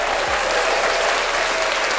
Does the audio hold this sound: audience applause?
yes